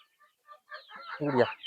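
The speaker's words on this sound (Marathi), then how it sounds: "हे मित्रांनो हे सगळे लहान पिल्ले आहेत" Chickens cluck and chicks cheep in short, scattered bursts, building to a louder squawk near the end.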